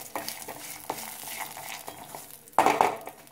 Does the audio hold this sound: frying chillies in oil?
yes